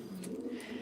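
A racing pigeon coos softly and close by while being handled, a brief low murmuring call.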